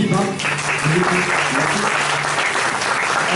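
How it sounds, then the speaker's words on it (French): An audience claps steadily for the teams, a dense, continuous wash of applause with a few voices rising faintly underneath at the start. "on peut applaudir pour les équipes"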